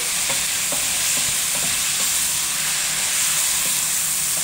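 Chicken being stirred in a frying pan for ginisang dish, a steady loud sizzle with hiss throughout and scattered scraping knocks of the spatula against the pan.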